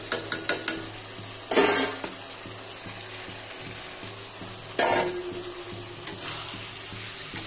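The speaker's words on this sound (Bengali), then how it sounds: "আমি এখন চিংড়ি মাছগুলো দিয়ে দেবো।" Prawns frying in a pan for Bengali potol chingri curry, a close sizzle broken by sharp bursts as they hit hot oil and clinks of a spatula against the pan, no talk.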